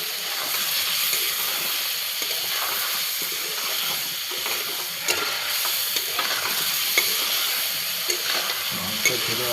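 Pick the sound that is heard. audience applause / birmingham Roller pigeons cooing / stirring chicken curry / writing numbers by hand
stirring chicken curry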